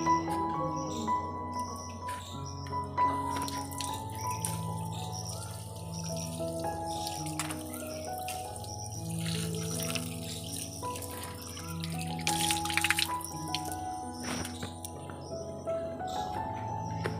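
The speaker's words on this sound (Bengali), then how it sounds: "পাটা আমি ধুয়ে নি।" Water splashing and running over a stone grinding slab being washed by hand at an outdoor tap area, steady trickling and sloshing with birds chirping faintly in the background.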